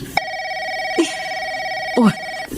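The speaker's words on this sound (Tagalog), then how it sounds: "Nagre-ring yung telepono natin." A home telephone rings in a steady electronic tone, sounding nearly continuously with brief breaks, loud and close, while a voice speaks briefly over it.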